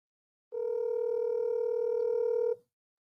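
A telephone line tone, part of a call that rings unanswered, sounds as a single steady electronic note lasting about two seconds and then cutting off, clear and alone.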